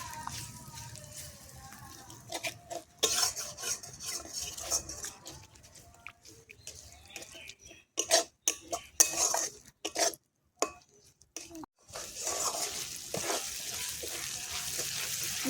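Onion frying with chili, ginger and garlic paste is stirred in a pan, with repeated metal spoon scrapes and clanks over a soft sizzle, broken by brief pauses, close by.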